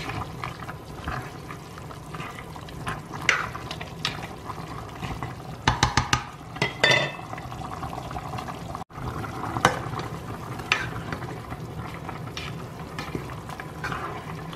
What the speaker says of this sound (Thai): ได้ยินไหมคะมันเดือดปุ๊บปุ๊บปุ๊บปุ๊บกลิ่นหอมมาก